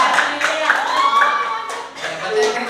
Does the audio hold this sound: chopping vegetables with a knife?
no